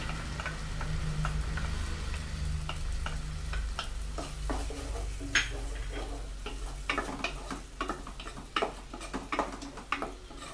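Chicken vegetable soup with tomato sauce in a pot, stirred with a spoon that knocks and clicks against the sides over a low bubbling simmer, close and alone.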